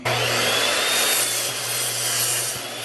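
A power saw cuts wooden shelf panels down to size, a loud, steady whining drone that runs unbroken at close range, with a slight dip in pitch near the end.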